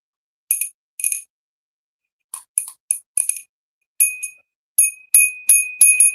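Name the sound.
bell made in Taiwan ringing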